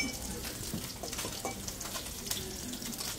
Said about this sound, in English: And with that, we're just going to mix it. Spoon here.